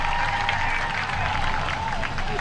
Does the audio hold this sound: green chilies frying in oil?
no